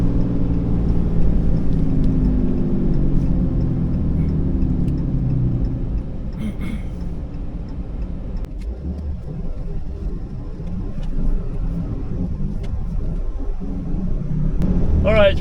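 Steady low road rumble inside an RV on a travel day from Coburg to Gold Hill, Oregon, a continuous engine and tire drone with occasional small rattles and clicks throughout.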